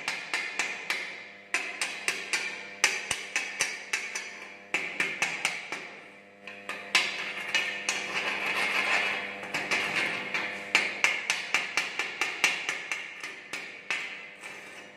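Hand hammer chipping slag off a single-V butt weld on mild steel plate in a workshop practice session, a steady run of sharp metallic taps in quick bursts, close and alone with no talk.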